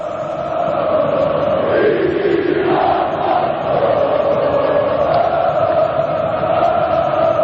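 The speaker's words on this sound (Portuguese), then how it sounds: "A torcida do Flamengo não para de cantar um só instante" Flamengo supporters sing in unison in the stands during a match against Vasco da Gama, a loud, sustained chant from a massive crowd filling the stadium without pause.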